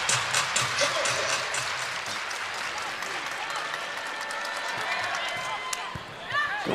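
Crowd applause and clapping fills a professional indoor volleyball arena between rallies, dense and sustained throughout, with a voice-like announcer layer underneath and a few sharp slaps and thuds near the end.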